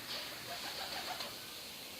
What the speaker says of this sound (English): It's a wild bird.